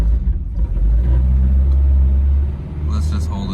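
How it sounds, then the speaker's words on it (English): A Toyota AE86 fitted with a Weber carburetor starts cold on a 48-degree early morning and settles into a deep, rough, rumbling idle close by, with a person speaking near the end. "Let's see if this thing likes a cold start."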